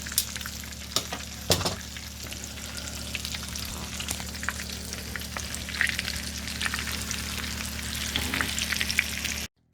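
Country-fried pork chops crackle and sizzle in a pan, a close, steady crispy frying hiss with scattered sharp pops and a couple of louder spatters early on, and no talking.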